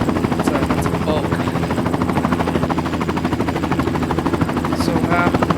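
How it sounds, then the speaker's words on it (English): A glitchy helicopter rotor sound from the video game Farming Simulator 19 thumps in a fast, steady, loud pulse throughout, with someone talking over it. "Ignore that helicopter sound, that will go away once we get into the game."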